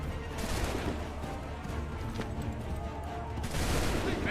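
A musket volley in Assassin's Creed III, a loud crackling burst of many flintlock shots fired together from a line of soldiers, followed by a dense rolling din of battle noise and another surge near the end.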